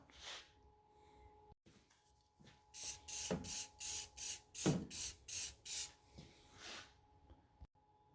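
A spray bottle of cleaner is pumped about eight times onto a car battery cable in a quick, even rhythm, each burst a short hiss, close up over a faint hum.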